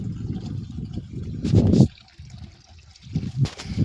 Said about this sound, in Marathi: तर आता मी गुरं पाणी पाजतोय.